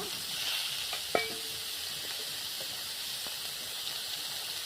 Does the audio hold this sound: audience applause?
no